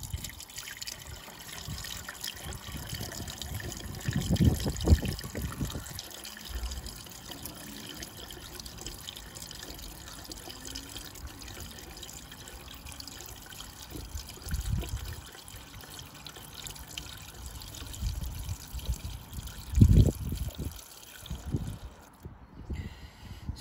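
Washer fluid trickles and gurgles as it is poured into the empty windscreen washer reservoir of a VW ID.3, a faint, uneven liquid pour with a few soft knocks, close by and with no talking.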